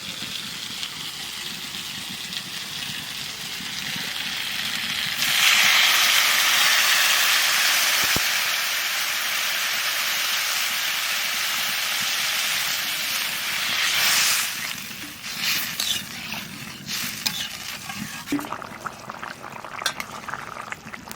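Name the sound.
squash frying with spices in a pan, water added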